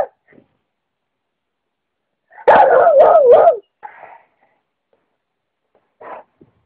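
A dog yowls in a wavering, song-like howl for about a second, with a few short whimpers and yips before and after and brief silences between.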